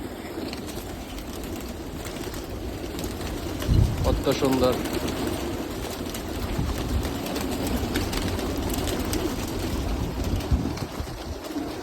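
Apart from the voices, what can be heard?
pigeons cooing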